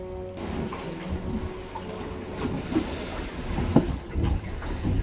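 A solar-powered boat moving through waves on a winter night, with steady rushing water and wind noise, occasional thumps and splashes against the hull, and a low continuous rumble.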